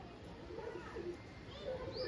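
A female pigeon in a home loft collection coos softly and repeatedly, partly masked by someone talking over it and faint background noise.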